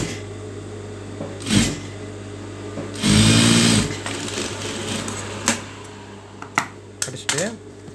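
A sewing machine stitching the front placket of a garment runs in short bursts, one longer steady run in the middle, with clicks and handling noises between and a person talking.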